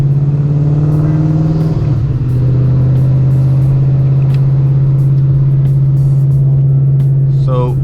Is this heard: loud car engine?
yes